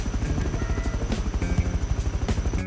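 An attack helicopter in the video game Rust flies close by, its rotor giving a steady, loud rhythmic chopping throughout, with sharp bursts now and then.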